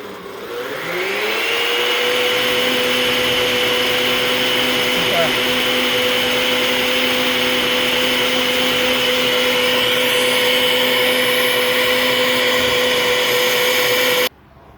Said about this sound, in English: we'll turn on your blender, and you want to mix this for 5 minutes.